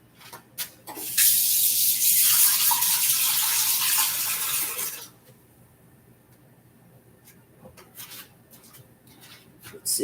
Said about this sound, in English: Let me rinse this off right quick.